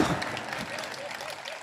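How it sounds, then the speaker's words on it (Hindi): An audience at a Hindi patriotic poetry recital claps in a short burst of moderate applause, fairly soft and steady, fading a little toward the end. "आप खुल के ताली बजा सकते हो, अब क्या डर है आपको?"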